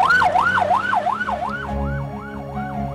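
An ambulance siren wails in a steady rising-and-falling cycle, loud and near, over a low engine rumble.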